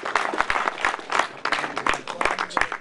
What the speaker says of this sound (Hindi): जोर से तालियां बजा दो।